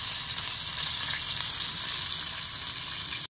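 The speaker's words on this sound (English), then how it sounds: "We have fried potatoes." Potatoes frying in hot oil give a steady, loud, dense sizzle that runs unbroken and close by, with no voices over it.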